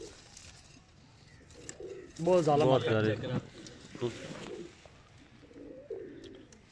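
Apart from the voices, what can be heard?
pigeons cooing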